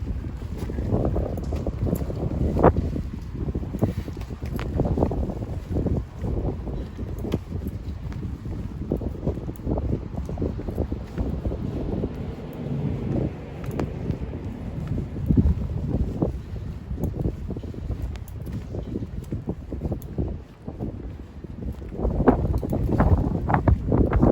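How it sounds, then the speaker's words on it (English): Gusty, choppy wind buffets the microphone outdoors in the Soho backstreets, a continuous rumbling roar with uneven surges and short bursts throughout, heard alone with no talking. "there's a choppy sort of wind today"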